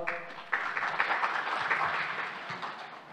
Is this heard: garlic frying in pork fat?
no